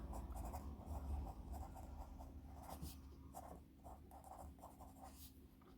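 An infinity pencil scratching across paper with steady, even pressure, a faint close-up run of soft scribbling strokes over a low background hum, with no voices.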